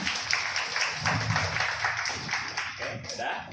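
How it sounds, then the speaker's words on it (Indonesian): Applause from a gathering of businesswomen at an event, scattered and moderately loud, with the claps forming an uneven rhythm that carries on steadily throughout. "Tepuk tangan."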